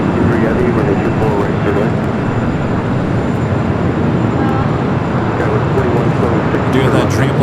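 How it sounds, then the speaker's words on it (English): Airbus A380 taxiing toward runway 24 left at Los Angeles airport, a steady broad engine rumble and whine holding loud and even throughout, with radio chatter faintly underneath. "Slowly but surely, the A380 Super making its way over there to 24 left"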